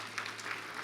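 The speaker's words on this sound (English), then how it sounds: "Give them all a big round of applause." An audience applauding at a business luncheon, a brief burst of dense clapping from a crowd, moderately loud and filling the room, with no talk.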